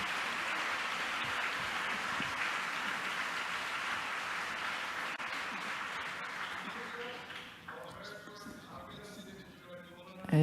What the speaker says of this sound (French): je vais vous demander de bien vouloir applaudir nos panélistes